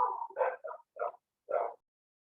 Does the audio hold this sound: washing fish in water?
no